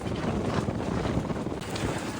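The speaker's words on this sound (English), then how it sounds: "It is so windy. It's been windy. It's so windy here" Strong wind at the beach buffets the microphone in a constant roaring rumble, with faint surf underneath, no voices.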